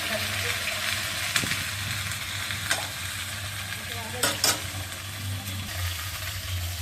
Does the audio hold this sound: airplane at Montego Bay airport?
no